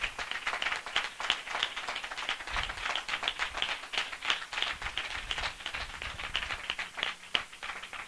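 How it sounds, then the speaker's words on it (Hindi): A church assembly audience bursts into loud, sustained clapping, a dense crowd applause that carries on steadily without letup. "हम जोरदार ताली से उनका स्वागत करें।"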